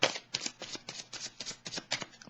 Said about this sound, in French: Je pense que je vais piger une petite carte dessus.